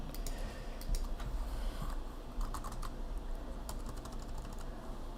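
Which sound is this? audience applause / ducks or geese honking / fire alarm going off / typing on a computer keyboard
typing on a computer keyboard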